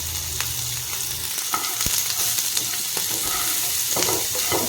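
Crab pieces and potatoes, seasoned with salt and turmeric, fry in oil in a pan with a constant loud sizzle, while a few sharp spatula scrapes and taps come through close up.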